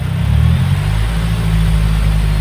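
A 2010 Mazda Speed 3, up on a stand for a front brake pad and rotor job, hums loudly close by while a light press of the gas lifts the engine into a gentle rev.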